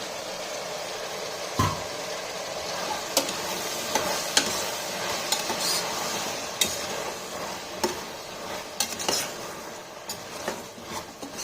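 Thick-cut potato chunks fry in a pan for potato capsicum rice, a steady sizzle broken by sharp clinks and scrapes of stirring at irregular intervals.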